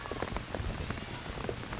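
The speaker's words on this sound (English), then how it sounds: "The rain driving down on Maureen Hendricks Field." Heavy rain pours steadily onto a lacrosse field during a professional women's game, a dense, constant hiss of drops that stays even and loud throughout.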